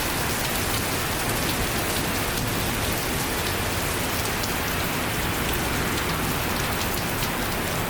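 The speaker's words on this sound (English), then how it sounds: "It's raining. It's pouring, actually." Heavy rain pouring down over a weekend, a dense, unbroken hiss of drops striking surfaces at steady loudness from start to finish, with no voices.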